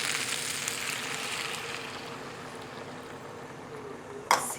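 Water hits kofta frying in a hot pan and sets off a loud, broad sizzling hiss that slowly eases, ending with a brief sharp clack near the end.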